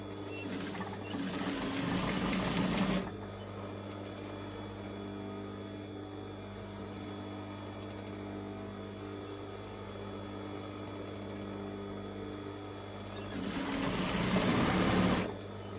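Sewing machine stitching a back tack on the crotch seam of shorts, two short bursts of fast buzzing stitching at the start and end, separated by a long stretch of quiet motor hum.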